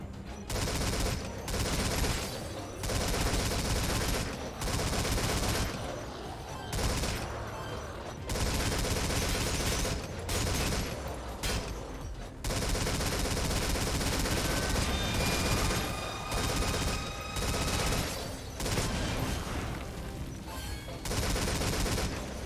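Gun turrets firing in the survival video game Metal Gear Survive, sustained loud bursts of automatic gunfire with brief pauses, continuing for over twenty seconds with no talking.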